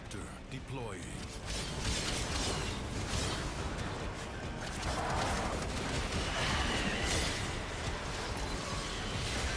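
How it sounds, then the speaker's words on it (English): In the video game Warframe, an extractor deploys with a dense stretch of mechanical whirring, clanking and whooshing layered with game effects, steady in loudness and fairly busy throughout. "But Extractor deploying."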